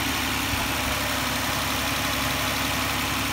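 Car engine idling after Seafoam has been added, a steady, loud, close mechanical drone with constant low rumble and no speech.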